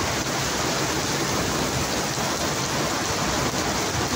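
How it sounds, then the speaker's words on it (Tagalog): Heavy rain pours down in a dense, steady hiss, loud and continuous throughout with no voices. "Ayan na nga, lakas na ng ulan."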